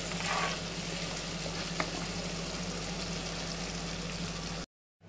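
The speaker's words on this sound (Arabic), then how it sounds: "هسيب الطماطم ده تتسبك كويس جدا جدا" Tomato sauce for a meatless vegetarian moussaka simmering and sizzling steadily in a pan, a continuous close bubbling hiss with one faint click partway through, then it cuts to silence just before the end.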